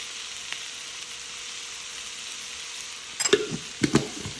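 Vegan curry sautés in coconut oil with a constant soft sizzle, then a spatula stirs the pan with a few close scraping, clattering strokes near the end.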